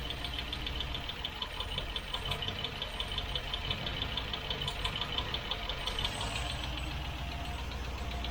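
A 1972 Range Rover engine idles steadily with a rapid, continuous ticking clatter from a lifting piston, close and even throughout, with no talking.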